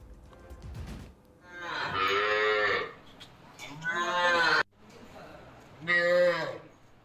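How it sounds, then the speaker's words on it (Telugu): Rare short dwarf cows in Kakinada district moo three times, each low call drawn out for about a second, loud and close, with quiet pauses between. "చిన్న సైజు ఆవులను పెంచుతున్నాడు"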